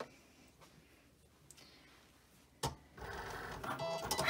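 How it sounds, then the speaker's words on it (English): A Cricut cutting machine cuts plastic sheet for ear protectors: quiet mechanical whirring at first, then a sharp clack and a louder, busier motor-and-carriage sound building toward the end, with no talk. "Now our Cricut will begin cutting our ear saber."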